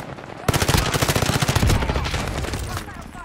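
Rapid full-auto bursts from a Welgun submachine gun in Call of Duty: Warzone erupt after a short quiet lead-in, loud and close, with dense rattling shots that trail into lingering echo.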